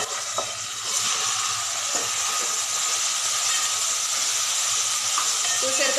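Biryani masala and meat mixture hits a hot pot, giving a loud, continuous steamy hiss that swells and holds steady, with faint knocks beneath.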